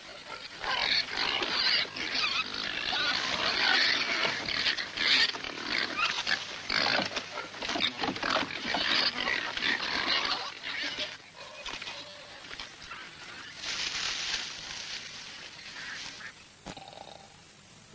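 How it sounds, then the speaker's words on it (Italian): Pigs grunting and oinking inside a stable, a dense, continuous chorus of snorts and squeals close by, with a voice speaking briefly over the animals. "Che c'è là? I maiali, eccellenza."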